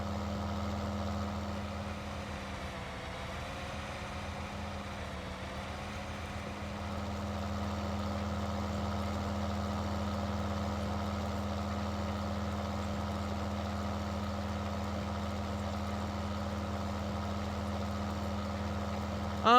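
Big Bud tractor engine in Farming Simulator 19 running steadily, a constant low diesel drone with a harmonic hum that roughens briefly early on and then settles into an even, unbroken idle-like tone, with no talk.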